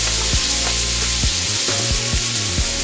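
Shrimp sizzle in a small skillet of hot fat for chicken and shrimp Alfredo, a steady close crackling hiss broken by regular low knocks, with no talking.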